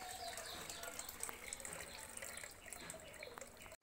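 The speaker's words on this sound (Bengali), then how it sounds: "আমাদের টাইম কলের যে জল পড়ে, আজকে জল কি ঘোলা আসছে দেখুন।" Cloudy water runs from a household tap in a steady, soft gushing stream that stops abruptly at the end.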